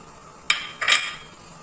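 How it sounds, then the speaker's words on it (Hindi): Chopped vegetables being stirred into a pot of chicken vegetable soup, giving two brief scraping, clinking strokes of a utensil against the pot, quiet and close, with no talking. "और इसको हम हिला देंगे।"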